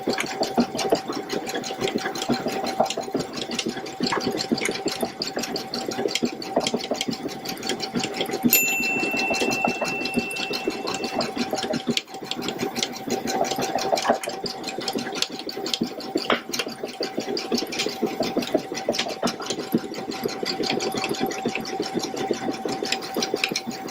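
A Baby Lock Solaris embroidery machine stitching a design runs continuously with a rapid, even needle chatter and a mechanical hum, mid-distance and steady throughout.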